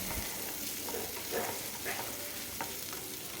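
Shallots and ginger fry in a pan with a quiet, even sizzle, broken by light stirring scrapes and a few small clicks of a spatula against the pan.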